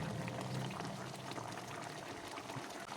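A pot of tulingan fish stew bubbling steadily at a boil, a continuous close simmering hiss with soft pops and no voices.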